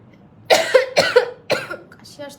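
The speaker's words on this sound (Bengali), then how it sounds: "কাশি আসতেছে আজকে খালি।" A woman coughs three times in quick succession at close range during a makeup session, each cough sharp and raspy, followed by a brief softer sound.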